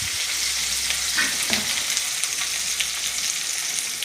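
Onion and ginger sizzle steadily in hot oil with mustard seeds and curry leaves for samba rava upma, a continuous close frying crackle with a brief stir partway through and no voices.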